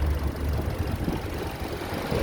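A warm 1.6 Mazda fuel-injected car engine idles nearby with a low, uneven chugging rumble, alone and fairly quiet.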